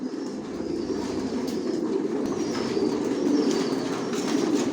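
Racer pigeons coo in a low, continuous murmur, as a group close by, with a steady rumbling drone underneath for the whole stretch.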